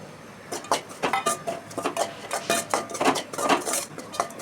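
Spice powders and a pinch of asafoetida stirred in a pan for curry leaf rice, a rapid run of metal spoon scrapes and clinks against the pan, steady and close.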